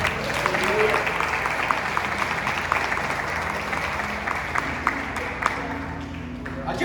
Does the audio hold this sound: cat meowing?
no